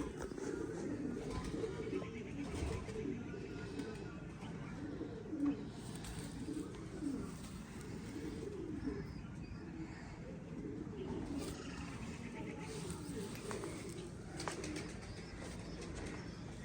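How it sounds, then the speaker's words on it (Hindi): Old pigeons give low, rolling coos in a steady rhythm, faint and continuous, with occasional wing flutters and a voice speaking in the background. "ये हमारे पुराने कबूतर हैं जी"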